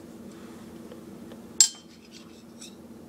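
Two spoons clicked together as a homemade instrument give a single sharp metallic clink, with a couple of faint lighter taps after it over a quiet room hum.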